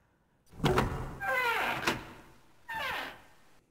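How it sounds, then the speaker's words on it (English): A door in the video game Zero Escape: 999 is pulled open with a creaking, rising groan in two drawn-out pulls, then a shorter third creak, heard close and alone. "grabbed the doorknob and pulled the door open"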